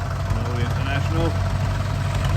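Vintage International tractor engine idling on a farm, a low steady rumble with light mechanical chatter, continuous and fairly close, with voices faintly over it.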